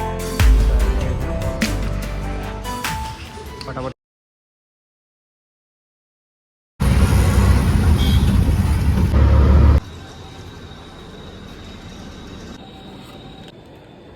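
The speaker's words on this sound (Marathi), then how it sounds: "फायनली आम्हाला रिक्षा भेटलेली आहे" An auto rickshaw's small engine rumbles on a ride, cut by a few seconds of silence, then continuing droning with a quieter hum at the end.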